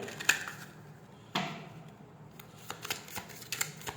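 Tarot cards are shuffled and drawn by hand, with a few sharp card snaps and a longer riffling swish followed by light taps and flicks, close and quiet with no speech.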